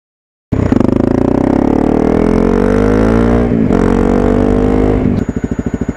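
Motorcycle fitted with an FMF Q4 quiet-class exhaust muffler, idling then revving in one long steady rise and fall, loud and close, settling back to a lumpy pulsing idle at the end.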